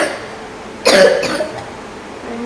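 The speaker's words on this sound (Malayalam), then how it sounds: "ഭയങ്കര ചുമയാലോ." A hospitalised child gives a short burst of two or three harsh coughs, close and fairly loud, over a quiet room with no talking.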